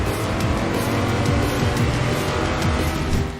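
Racing car engines roar continuously with tire squeal and passing cars in the mobile racing video game Grid Legends, loud and dense throughout with no talk.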